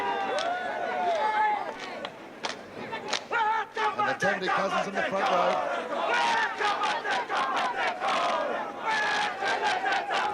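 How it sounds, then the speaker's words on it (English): A traditional haka performed at a rugby league match at Carlaw Park: rhythmic shouted chants and sharp stamps and slaps from many voices, loud and close, with crowd noise and a commentator speaking over it. "And here's the traditional haka."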